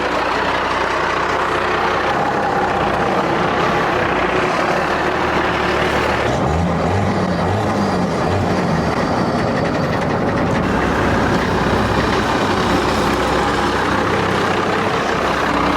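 A hot rod's engine runs steadily at close range while a driver still learning the clutch drags it. The low rumble holds throughout, with a brief rough lugging patch midway and no speech.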